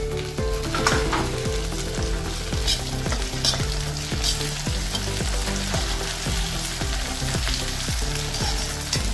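Tomato and onion fry in a hot pan with a steady, loud sizzle, while a regular scraping rhythm of stirring taps through it from start to finish; no voices.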